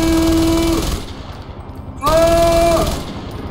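Heavy gun firing in Far Cry 4, two loud sustained bursts about a second long each, separated by a brief quieter gap, close and dominant with no talk.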